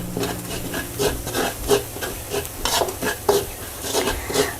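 A paste of garlic, coriander root and pepper fried on low heat, giving a soft steady sizzle with repeated scraping stirs of a spatula against the pan.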